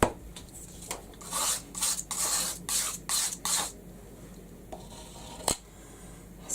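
Material scraped off the inside of a pot: a quick burst of close rasping strokes, then quieter scraping and a single sharp knock, with no talking.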